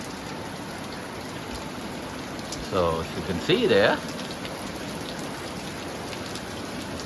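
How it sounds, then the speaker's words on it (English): Heavy rain from a thunderstorm pours steadily and fills the whole clip, and someone speaks briefly over the downpour. "We have a blue sky and a pop-up thunderstorm that brings a lot of rain."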